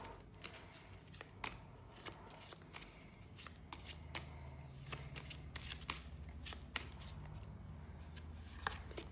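Tarot-style cards are shuffled close by in quiet riffles and flicks, with repeated sharp snaps and soft slides over about nine seconds and no talk.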